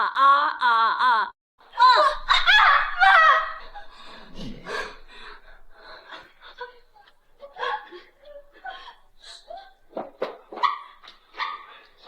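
A person's voice imitates a dog barking in a burst of loud, repeated woof-like yelps, then trails into quieter scattered vocal sounds and chuckling.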